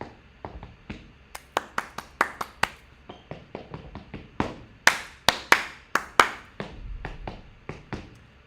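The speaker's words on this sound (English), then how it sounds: "they start clapping and the class is supposed to respond" Rhythmic hand clapping in a class, sharp claps in quick patterned bursts with brief pauses between groups, close and fairly loud with no voices.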